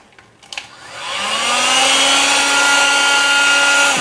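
A heat gun set on low blows hot air over an ambient air temperature sensor: a few small clicks, then a loud, steady rushing whoosh with a rising motor whine that settles and holds, with no talking.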